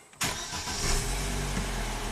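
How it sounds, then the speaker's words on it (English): An Opel Astra engine starts with a sudden close crank and catch, then settles into a steady idle with a slight rise in revs, alone with no talk. "I'll start up the car."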